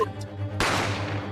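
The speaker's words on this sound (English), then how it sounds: "You heard the gunshot, you mean?" Gunshot sound effect in the video game Great Ace Attorney Chronicles: a single sharp, loud crack that sets off a long, noisy decay over a steady low hum, with no voices.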